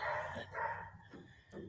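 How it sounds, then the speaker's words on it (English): Several dogs barking somewhere nearby at night, a short burst of agitated barks and yips heard alone without any talk. "Those dogs are going crazy."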